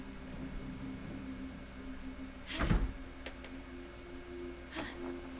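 A door opens in the video game What Remains of Edith Finch, with a soft thud and creak followed by a second lighter knock, set against a faint steady hum.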